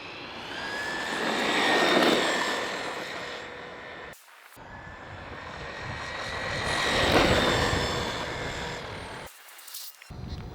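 A Maverick Quantum2 MT brushless RC truck on a 3S battery makes a loud, whining motor roar that swells and fades in two long passes, with brief cutouts between runs.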